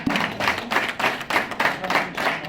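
Members of a Sagara community association clap during a felicitation ceremony, a modest group applause with rhythmic bursts of claps rising and falling, fairly near, no talk over it.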